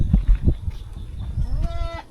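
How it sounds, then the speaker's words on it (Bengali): A short goat bleat rises near the end after some low thumps and shuffling, fairly close, with no talking, in a goat shed in a Sundarbans village. "দেখো এই যে ছাগল এখানে কিভাবে রয়েছে।"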